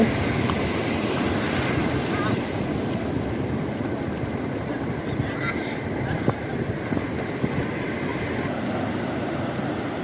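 Waves wash steadily at the shore near Puri in an unbroken roar of surf, mixed with buffeting wind and faint voices in the background.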